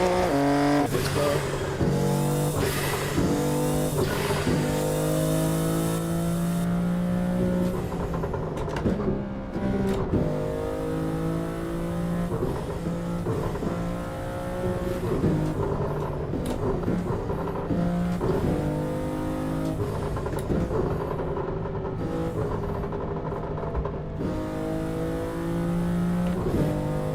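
A roughly 1000-horsepower car in Assetto Corsa drives through highway traffic, its engine droning loud and steady with repeated rising and falling rev sweeps as it shifts through gears, continuous for the whole stretch with no talk.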